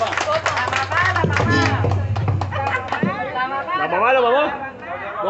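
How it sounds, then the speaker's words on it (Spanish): A studio audience on a Spanish-language TV show claps for a birthday in short, sharp bursts. Lively voices talk and chatter loudly over and after the clapping. "un fuerte aplauso."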